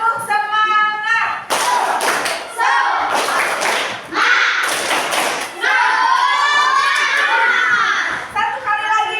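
Schoolchildren in a classroom perform a rhythmic clapping cheer, loud bursts of patterned claps alternating with the class chanting together in a call-and-response, close and energetic.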